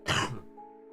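A single short throat clearing, a rough cough-like burst close to the microphone from someone with a lingering chesty cough, followed by a quiet tonal background.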